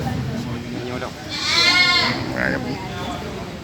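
Donated livestock goats at a university agriculture faculty bleat, one clear wavering bleat rising over an ongoing speaking voice and crowd murmur outdoors.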